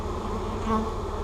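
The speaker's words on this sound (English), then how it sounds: "There's bees all over." Honeybees fly around near their hives, a dense continuous buzzing drone from many insects, close and steady with no voices.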